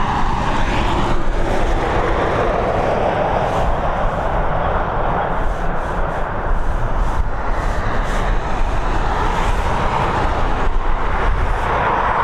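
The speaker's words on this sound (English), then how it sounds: "NJE129H is NetJets Europe operated Cessna 560XL citation, heading over to Stockholm." A NetJets Europe Cessna 560XL Citation business jet runs at Dublin Airport, a loud continuous engine roar and rushing noise that holds steady throughout with no voices.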